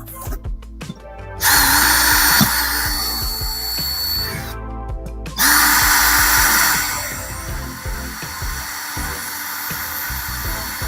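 A power drill fitted with a small drill bit runs in loud, sustained bursts, briefly stopping and restarting with a whining motor and grinding chatter as it works close to the microphone.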